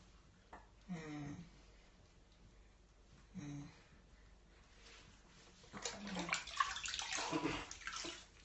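Water splashing and pouring while an elderly woman's hair is washed at bath time, soft sloshes early on, then louder continuous splashing, with faint voices nearby.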